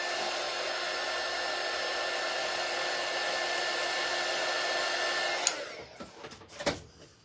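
A hair dryer blows steadily and loudly on a freshly painted cutout for about five seconds, then shuts off, leaving a few soft handling knocks.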